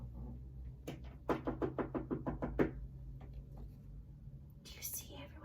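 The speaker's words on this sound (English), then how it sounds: "you see everyone knocking?" A run of about eight quick, even knocks rings out on a door at close range, followed by quiet.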